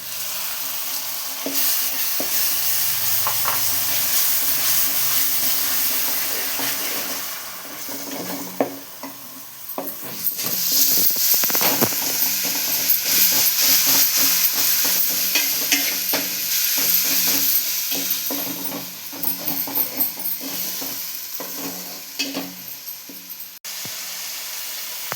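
Ginger garlic paste with salt, chili powder and garam masala frying and being stirred in a pan for chicken biryani: continuous close sizzle and hiss with scraping stir strokes, swelling louder partway through.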